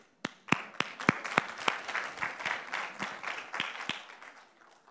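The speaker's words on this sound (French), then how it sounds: "Vous pouvez vous applaudir." Parents in an audience at a celebration clapping, starting with sparse individual claps that build into steady applause and then thin out, moderately quiet.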